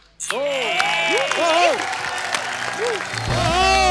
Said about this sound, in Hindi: एक बार जस्सी बाजी के लिए जोरदार तालियां